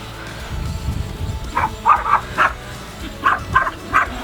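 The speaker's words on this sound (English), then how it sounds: "He'll bark and go crazy and have some fun" Popeye the dog barks outdoors at a field while chasing a Bugs 3H hobby drone. Two quick groups of three or four sharp barks come at mid distance over steady wind and rumble.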